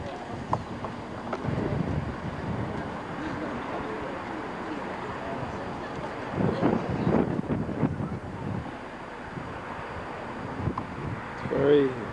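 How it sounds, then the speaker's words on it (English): Strong wind buffets the microphone on a cloud-covered mountain lookout in Hawaii, a steady broadband rumble with louder gusts around the middle and near the end, and a person talking intermittently underneath. "It's very, very windy up here."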